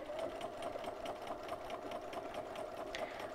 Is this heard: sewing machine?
yes